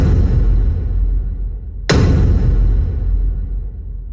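Two heavy techno kicks made in Serum 2, processed with a glue compressor, boom in succession, each followed by a thick, sustained low rumble that barely fades before the next.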